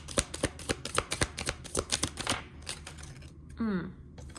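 Tarot cards being shuffled in quick, crisp riffling bursts over roughly two and a half seconds, close and fairly loud, followed by a brief quieter stretch and one short sweeping rustle near the end.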